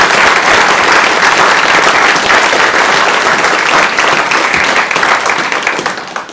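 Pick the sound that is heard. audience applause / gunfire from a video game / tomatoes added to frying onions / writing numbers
audience applause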